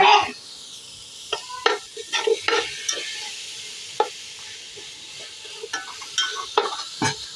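Chopped tomatoes hit a pan of frying masala for Malabar biryani and are stirred, producing a soft sizzle under repeated scraping and clinking stirring strokes, close and fairly loud.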